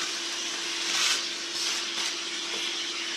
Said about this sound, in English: and I can vacuum.